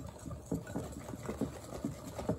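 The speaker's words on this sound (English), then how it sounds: "Now I'm going to whisk it." Cake batter for Halloween cupcakes and cake pops is whisked in a bowl, a steady rhythmic series of soft close strokes at about two per second.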